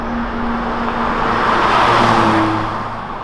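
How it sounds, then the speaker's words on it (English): A 2021 Volvo V90 Cross Country B5 AWD with an 8-speed automatic, heard from inside while driving: a steady, fairly loud engine and road drone that swells gently and eases off, with no talk. "So this 8-speed automatic is working very nicely with this V90 crossover"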